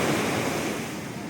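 Ocean waves rushing steadily with a broad, loud wash of surf, wind buffeting the microphone.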